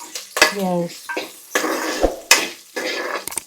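Tempering of spices for a ridge-gourd-peel dal fries in a pan while a metal spoon clinks and scrapes against it in short bursts, with a faint sizzle between the strokes and a voice speaking over it.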